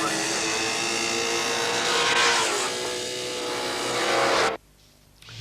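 Drag racing cars launching from the start line at the Santa Pod World Finals in 1989, sounding rough and unclean, loud engines roaring and revving for several seconds before cutting off abruptly into near quiet.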